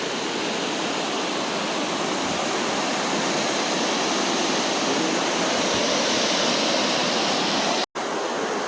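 A river flows beside an ashram at Khopoli, giving a steady, loud, even rush of water that fills the whole stretch without pause and with no voices.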